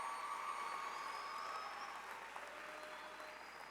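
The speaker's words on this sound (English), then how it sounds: "Can we get a round of applause again for the class of" Graduation audience applause for the class of 2015, a faint, steady patter of many hands in a large hall, slowly easing off toward the end.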